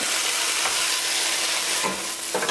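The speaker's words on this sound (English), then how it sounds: "Give that a quick stir." Collard greens cooked Caribbean style being stirred with coconut milk in a pot, a loud continuous sizzle with a couple of scraping stir strokes near the end.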